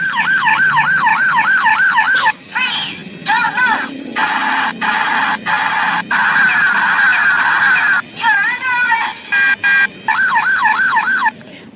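A toy police car sounds a loud, continuous wailing two-tone siren that rises and falls steadily, with brief breaks and bursts between, close to the microphone.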